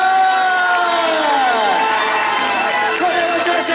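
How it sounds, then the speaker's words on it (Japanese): A crowd at the Park Air 2017 snowboard event during the Sapporo Snow Festival cheers and whoops for the riders, with clapping and shouts mixed throughout, loud and sustained. "もう一度最後にライダーたちに大きな拍手をお願いします"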